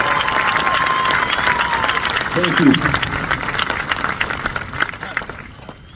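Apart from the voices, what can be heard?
graduation audience applause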